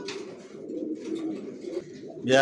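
Cooing from young racer pigeons rolls along in soft, repeated low pulses, close and steady, ending with a sharper, louder call burst near the end; no one speaks.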